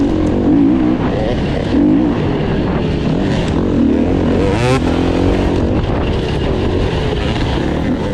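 KTM 350 EXC-F dirt bike fitted with supermoto tires racing in a pack during a NYOA round, its engine loud and close with rising and falling revs and other bikes roaring around it throughout.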